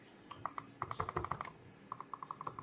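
Back buttons on a Steam Deck OLED are pressed repeatedly, giving soft, fairly muted clicks in quick bursts, faint and close against a quiet background.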